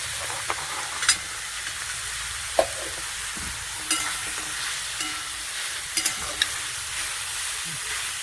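Bottle gourd and bori cook without water in a covered pan over a low flame, giving a soft, even sizzle with scattered faint pops and clicks and no speech.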